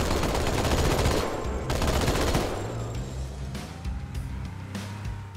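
Gunfire in Halo 2 Anniversary, with loud rapid automatic bursts early on that thin out into scattered shots over a low vehicle rumble.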